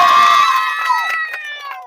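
A crowd at a village rooster-eating challenge contest bursts into loud, high shouting and cheering, with whoops rising over a dense roar that slowly fades across about two seconds.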